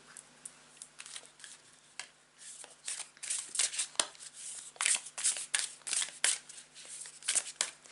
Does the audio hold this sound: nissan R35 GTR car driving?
no